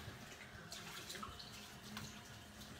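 Warm water runs and splashes as hair is rinsed at a hair salon, a soft continuous gush with small spattering bursts, close but fairly quiet, with no talk.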